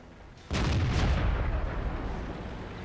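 A single loud tank cannon shot in World of Tanks, fired from a T-34 tier V medium tank, with a sharp boom that rolls into a long rumbling decay.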